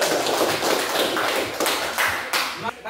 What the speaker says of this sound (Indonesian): beri aplaus dulu dong